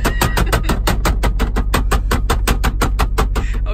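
Steady low rumbling vibration inside the cab of a 2020 Peterbilt truck, with a fast, even pulsing throb running continuously at moderate loudness and no voices.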